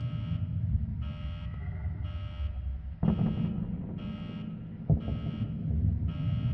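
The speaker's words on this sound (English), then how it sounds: "the fire alarm is going off, so Roslyakov starts shooting at it." A school fire alarm set off by smoke from pipe bombs, sounding as a loud repeating buzzer in regular on-off bursts, with a couple of sharp bangs cutting in partway through.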